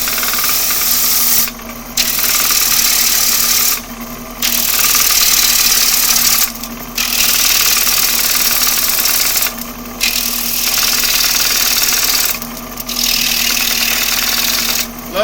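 A wood lathe turns green wood while the tool pulls off large shavings, making a loud continuous hissing rasp over a motor hum, broken by about five short pauses at regular intervals.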